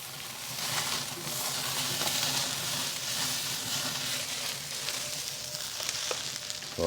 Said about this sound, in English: Oh, nothing like that good sizzle.